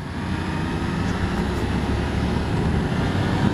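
A 2016 Yamaha XSR-900 motorcycle's engine pulls steadily under acceleration, heard as a continuous low, throbbing drone mixed with wind rush and staying loud and even throughout.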